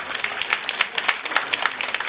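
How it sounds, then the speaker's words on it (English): Audience applause following a dance performance at a library cultural exchange event in Ottawa: a steady, dense patter of many hands clapping at moderate loudness for about two seconds, with no voices over it. "Let's give another round of applause, ladies and gentlemen."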